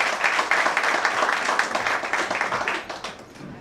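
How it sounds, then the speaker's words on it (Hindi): At a Hindi film launch event, an audience bursts into loud clapping for Naseer bhai. A brief, dense round of applause peaks quickly and tapers off within a few seconds. "आप लोग यहाँ पर एक बार थोड़ा जोरदार ताली बजा दीजिए नसीर भाई के लिए।"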